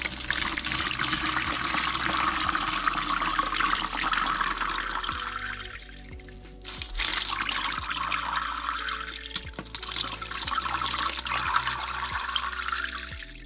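Pre-polish slurry and liquid pour into a rock tumbler barrel, a steady continuous splashing, gushing water sound with a brief dip midway, close and fairly loud, no talk.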